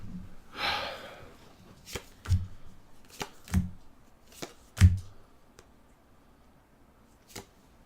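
Cards from the Arkham Horror card game are being shuffled up close: a soft riffle of flicking cards, followed by a series of sharp taps and snaps as the deck is squared and handled, with no talking.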